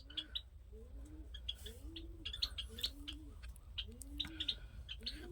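Giribaz pigeons coo over and over in low, rolling calls, with short chirps above them and a steady low hum underneath.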